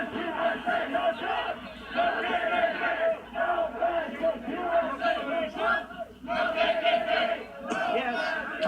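A crowd of protesters yells at a Bernie Sanders political rally: a dense, loud mass of overlapping shouting voices that runs continuously, with brief dips and surges.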